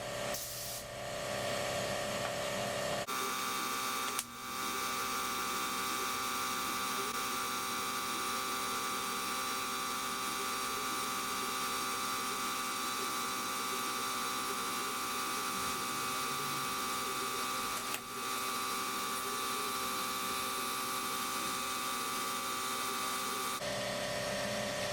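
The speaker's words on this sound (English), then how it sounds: "that compressor's loud" An air compressor runs in a home workshop during a barn door build, giving a steady loud mechanical hum and hiss that holds almost unbroken for the whole span, with a brief dip near the start.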